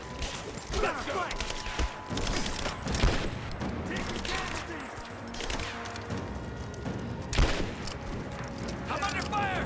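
Gunfire in the video game Rise of the Tomb Raider, with dense overlapping shots and bursts that hold steadily loud through the whole stretch, plus sharp louder cracks near three and eight seconds.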